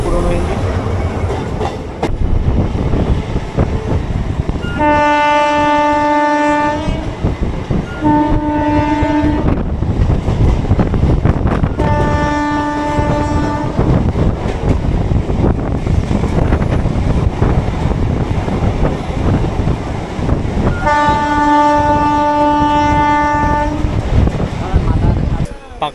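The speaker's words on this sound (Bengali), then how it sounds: "তো ট্রেন এখন ফুল রানিং হয়ে গেছে।" A Sealdah–Canning local train runs at full speed, its steady rumble and clatter filling the whole stretch while a loud horn sounds in several long blasts.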